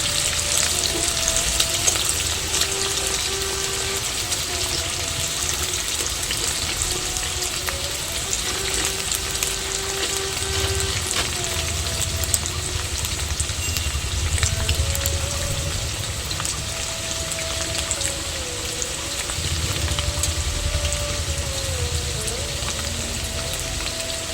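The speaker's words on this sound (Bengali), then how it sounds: "পনিরগুলো গরম জলে দেওয়ার জন্য খুব নরম হয়ে গেছে, হালকা হাতে নাড়তে হবে।" Soft paneer being gently stirred in a frying pan for paneer malaikari, a constant close sizzle and bubbling hiss with faint occasional scrapes, steady throughout.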